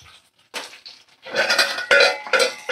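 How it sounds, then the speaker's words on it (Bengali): A utensil clinks and scrapes against a pan while vegetables and spices are stirred for a Bengali goat liver dish, with several short metallic bursts separated by brief gaps. "সব সবজি আর মশলা সমস্ত উপকরণ আমি ভালো করে দেখো নাড়াচাড়া করে নিচ্ছি"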